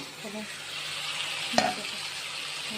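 Potatoes dropped into spices frying in oil in a pan, a soft continuous sizzle with a sharp clatter midway as they go in.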